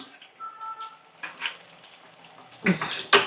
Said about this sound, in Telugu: ఇప్పుడు కొంచెం వేగాలి ఇలా వేగించుకోవాలి